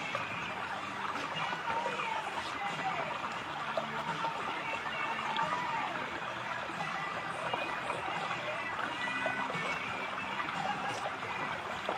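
Laundry scrubbed by hand, without a board or brush, in a flowing mountain stream. The rushing water stays steady and close throughout, with soft splashing and rubbing mixed in and faint voices in the background.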